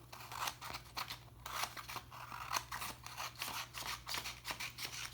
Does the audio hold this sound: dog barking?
no